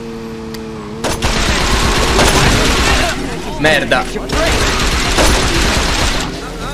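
In the video game Saints Row 2, sustained machine gun fire rattles in long bursts, loud and close, with someone talking over the shooting.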